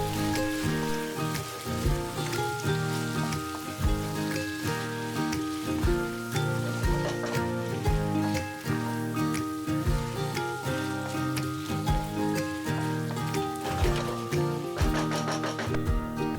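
Goan beef chilli fry sizzles softly and continuously over a low flame, a faint, even crackle like light rain with no clear voice over it.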